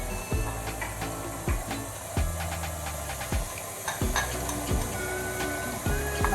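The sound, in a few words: whisking whipped cream with mascarpone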